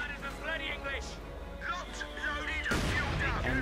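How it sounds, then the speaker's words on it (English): Mortars fire in the Company of Heroes 2 strategy game, with a sharp loud blast near the end under continuous commentary from a man. "mortar shooting in a few shots as well"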